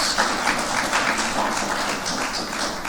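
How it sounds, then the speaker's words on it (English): Audience applause at a conference plenary opening session, a steady dense wash of many hands clapping throughout, moderately loud with no voices on top. "Please give MSI a good round of applause."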